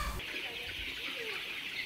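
Meat chickens in a flock on a farm cluck and call steadily over a broad background hiss, with no voices.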